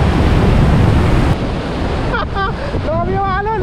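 Loud roaring ocean surf and wind at Wuyanjiao, Yilan, Taiwan buffet the microphone, then ease as excited voices shout over the churning water.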